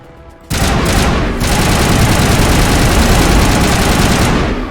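Gunfire in the Mass Effect video game, a sustained loud burst of rapid automatic fire that starts abruptly and rattles on for several seconds without pause.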